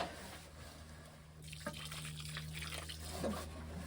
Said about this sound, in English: I feel the need as if it needs to have a little bit more water.